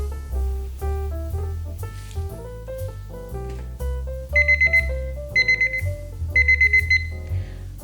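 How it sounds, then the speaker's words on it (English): A kitchen oven timer set for 12 minutes goes off with loud, rapid beeping bursts repeating in three short groups, over ongoing background music. "Our 12-minute timer just went off"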